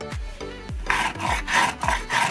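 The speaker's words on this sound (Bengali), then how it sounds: "আমি এগুলো বেটে নেব সব একসাথে।" Mustard seeds, cardamom, cashews, poppy seeds, melon seeds, cumin and peanuts being ground into paste, a rhythmic scraping and grinding with a thump at each stroke, close and steady.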